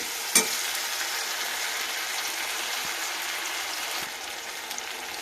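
Ginger paste frying in a pan for chilli chicken, a steady close hiss of sizzling oil running throughout, opening with a sharp utensil knock and a few soft stirring taps, no speech.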